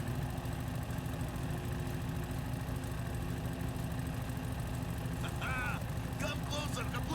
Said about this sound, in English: Hear the engine. Listen to it roar.